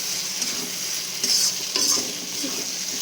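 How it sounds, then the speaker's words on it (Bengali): Spice paste, thinned with a little water, fries and is stirred in oil in a pan for a goat-meat dish, giving a steady close sizzle broken by a few brief scraping strokes of the spoon. "আমাদের মশলাটা ভালো মতো কষানো হয়ে যাচ্ছে"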